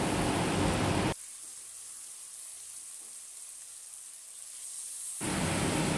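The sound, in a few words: pomfret fish frying in a wok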